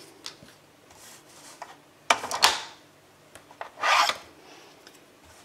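A sheet of paper is cut at a marked line for scrapbook album pages, producing two short, close rasping slices separated by quiet handling taps.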